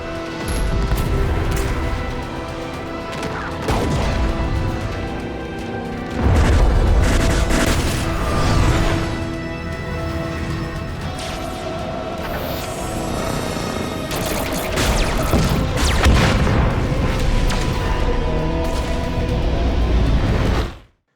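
Samus's gunship in Metroid Prime 4 Beyond blasting enemy spacecraft with guns and missiles: loud continuous barrage of booming explosions and rapid fire, with swelling cinematic rumble and impacts throughout.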